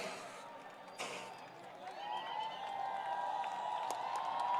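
Applause and cheering from a crowd at an Arvind Kejriwal rally in Surat, Gujarat, starting with a sharp burst and then swelling into sustained, fairly distant clapping and whoops.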